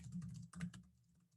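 Someone types a question on a computer keyboard, making a quick run of soft, close clicks and taps that fades into quieter keystrokes near the end.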